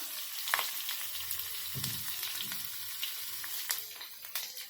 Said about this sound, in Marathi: तेल गरम झालं की जिरं टाकायचं ही हिरवी मिरचीही टाकून घेऊया आणि इथे लसूण पण टाकून घेऊया